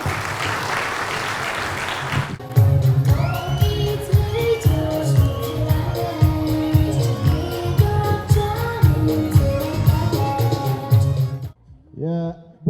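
An audience at a school graduation ceremony breaks into sustained rhythmic clapping, loud and dense, after a voice speaks over a microphone. The applause stops abruptly near the end.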